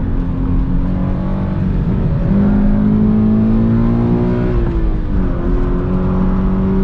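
A 2020 Toyota 86 Hakone Edition heard from inside while driving, its engine droning loudly and steadily with rising and shifting pitch as revs change, a constant close mechanical roar.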